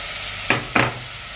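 Onions dropped into hot oil and ghee in a pot, two quick bursts of sizzling and clatter rising over a faint steady background hiss, loud and close.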